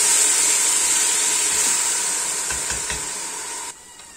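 Onion frying in a pan for chorba frik and being stirred: a steady bright sizzle with a few soft scraping stirs, close, dropping quieter at the end.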